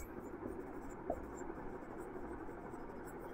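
Pen scratching across paper while writing by hand, a faint, continuous soft rasp with small irregular strokes, close and quiet, with no voices.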